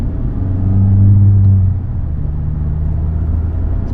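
A 2021 Honda Civic Type R being driven gently, giving a low, steady engine and road rumble that swells briefly then settles into a smooth, quiet hum, heard from inside the cabin.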